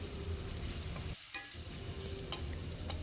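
Pepper sautéing in a pan for a tuna sandwich, a steady close sizzle with scraping stirring strokes and a brief pause midway.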